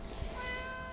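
A pet cat named Shadow gives a single short meow, close and fairly quiet, alone without any talking.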